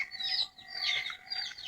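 Chickens cluck in short repeated calls at a rice paddy during transplanting, moderately close and fairly quiet, with no talk over them.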